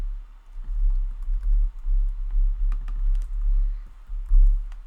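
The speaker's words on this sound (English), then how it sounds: "So you can always just type in directly and just type it in directly." Fingers typing on a computer keyboard at a brisk, irregular pace, with close, distinct key clicks in quick bursts and no talking.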